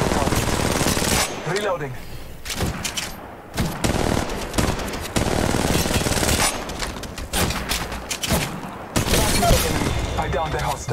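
Bursts of automatic gunfire and booming shots in the battle-royale mobile game Apex Legends Mobile, loud and near, with a voice speaking over the firefight.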